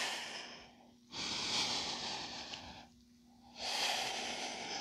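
Slow, deep breaths during a yoga strength session, two long airy exhalations with a quiet inhale between, close and soft with no talking.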